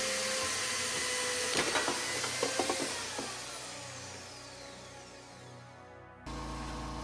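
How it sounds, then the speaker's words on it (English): A cutting machine slices through the metal runner of a foam-to-metal casting, giving a loud, steady grinding roar with a cluster of sharp clanks early on. The roar then thins out and a different hum takes over at the end. "So the runner, I have this machine that allows me just to cut it very easily."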